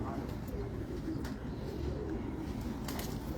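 A Salara pigeon, a breed kept by a young pigeon fancier in Karachi, gives soft low coos over a murmuring background, with faint voices nearby.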